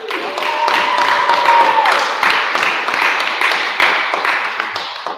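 An audience at a Thursday mediumship church service gives a warm round of applause for the medium Colin Boswell. The dense, steady clapping fills the room for several seconds before thinning out near the end.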